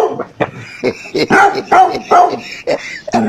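A dog barks and yips repeatedly at close range, its sharp bursts mixed in with people talking loudly nearby.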